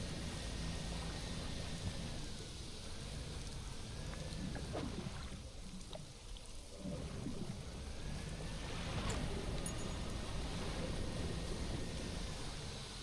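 A thunderstorm with steady heavy rain in the fishing game Dredge, a constant wash of rainfall with low rolling thunder rumbles swelling midway, loud and continuous.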